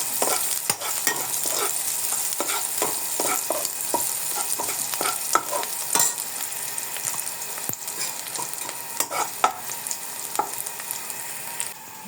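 Garlic and onion fry for squid adobo with a steady, close crackling sizzle, broken by frequent clinking scrapes of a utensil stirring the pan, with no talking.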